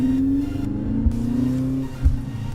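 A 2.7L Toyota Tacoma pickup truck engine with a Magnaflow muffler drones steadily with a deep, throaty exhaust note, rising slightly in pitch as it revs toward 4,000 RPM, with a couple of low thumps.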